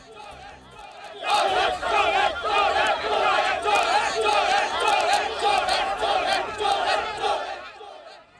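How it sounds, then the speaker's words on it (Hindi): A large protest crowd hoots and chants slogans in loud rhythmic bursts around a news reporter, the many voices swelling together after a short quieter opening and holding at full volume almost to the end. "तो ये हुटिंग आपने देख ली"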